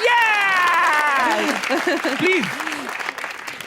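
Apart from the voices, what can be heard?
audience applause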